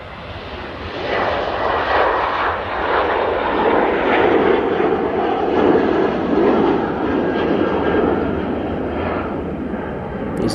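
Airbus A350-1000 jet taking off at Manchester Airport, a steady, broad engine roar rising slightly and holding at a moderate distance for the whole stretch.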